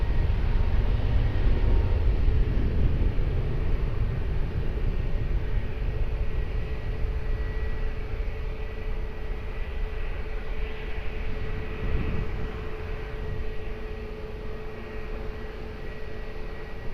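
An airplane taking off at Lisbon Airport, heard as a steady, broad jet roar with a low rumble, loudest at the start and holding at a fairly even level throughout, distant rather than close, with no talk.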